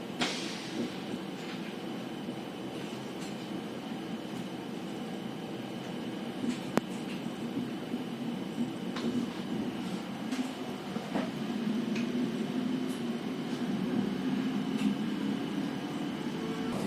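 Inside a Swiss double-deck passenger train, a steady low rumble and hum fills the carriage, with faint rattles and clicks from the running gear over a constant background noise.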